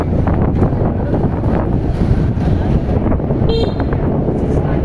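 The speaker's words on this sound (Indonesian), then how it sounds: "Dan kita langsung melanjutkan perjalanan menaiki motor" A motorcycle taxi is underway with one passenger. Heavy wind buffets the microphone continuously over a low engine rumble.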